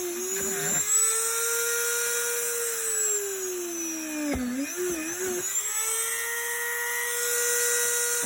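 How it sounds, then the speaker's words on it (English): A high-pitched drill whines steadily nearby, dipping in pitch as it bites into a bobble-head toy's neck, with a brief stop midway before spinning up again. "that is all the drilling we are going to do"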